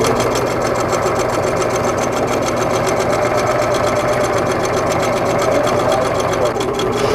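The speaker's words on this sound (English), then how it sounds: "Lower your presser foot and your needle, backstitch, and sew using a 1/4 inch seam allowance." A Singer sewing machine runs steadily, stitching quilt border pieces with a quarter-inch seam, its fast even whir continuing loud and close for the whole stretch.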